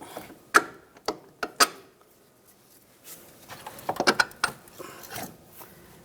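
Sharp metallic clicks and ratcheting bursts come from a hand tool backing out bolts on the front strut assembly of a 2004-2009 Toyota Prius, a few spaced clicks then a quicker cluster, close and fairly quiet.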